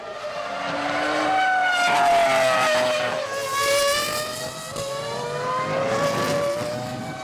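A Ferrari F2002 Formula 1 race car screams past at high revs, its engine note rising and falling through sharp gear changes, loud and close, with no voices.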